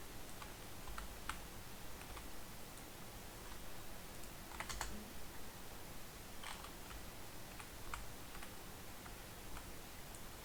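Someone types on a computer keyboard, a faint scatter of light key clicks, some single and some in quick bunches, over a soft steady hiss of room noise.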